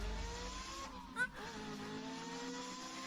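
A car's engine hums steadily as it drives along, with a brief swell of road noise partway through; faint voices can be heard under it.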